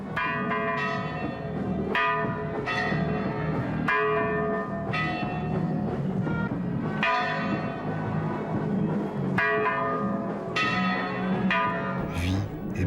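Church bells ringing at night in Mexico, repeated bright clanging strikes every second or two that overlap in a dense, resonant peal, loud and continuous throughout.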